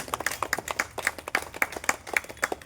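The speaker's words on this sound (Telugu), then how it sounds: "గట్టిగా గట్టిగా గట్టిగా క్లాప్స్ కొడదాం" An audience at a spiritual gathering claps loudly and steadily, a dense run of sharp handclaps falling into a quick, fairly even rhythm, close and without talk.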